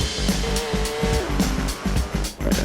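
A Porsche launching hard in Forza Horizon 4, with a loud continuous engine roar and tire squeal running throughout, punctuated by rhythmic gear-shift pulses, close and with no talk.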